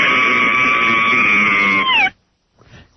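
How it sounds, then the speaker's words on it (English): A radio show caller screams over the phone, one long, loud, sustained held scream that cuts off abruptly, followed by brief faint noise. "Let's hear you scream real quick."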